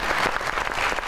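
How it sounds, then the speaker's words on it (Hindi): A studio audience on a Pakistani talk show claps in a brief, dense burst of applause, close and fairly loud, with no voices over it. "बहुत सारी तालियों में।"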